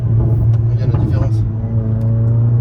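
A Mercedes A45 AMG engine hums in a deep, steady low rumble heard from inside the car, loud and constant, with people talking over it.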